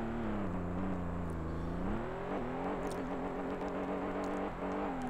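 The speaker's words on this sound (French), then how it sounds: "le moteur s'est emballé complètement" In the PS1 racing game Vanishing Point, a car engine drones loud and continuous, its pitch climbing, dipping and surging unsteadily as it runs away out of control.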